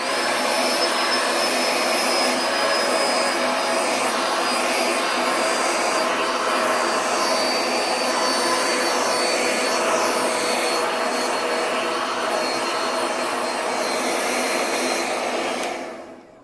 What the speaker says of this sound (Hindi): कार का वैक्यूम क्लीनर है ये।